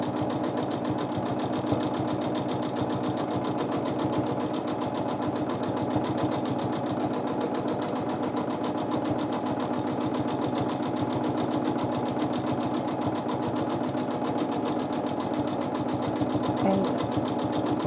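A sewing machine runs steadily through free-motion quilting of a feather design, its close, even motor hum and rapid needle chatter continuing without pause throughout.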